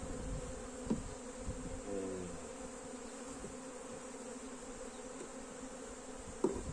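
Honeybees buzzing in an opened beehive, a faint, steady hum throughout with a few soft knocks, no talking.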